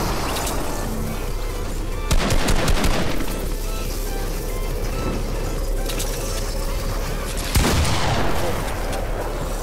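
Bursts of rapid gunfire from the Fortnite video game, sustained and dense with heavier volleys around a couple of moments, under a constant game soundscape.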